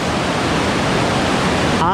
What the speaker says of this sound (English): I have never ever witnessed such a thunderous free waterfall like this before.